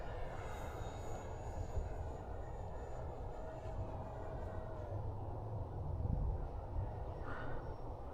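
FMS Futura 64mm EDF model jet flying on a windy day, a steady whooshing ducted-fan whine heard from a distance over continuous wind rumble, with no talk.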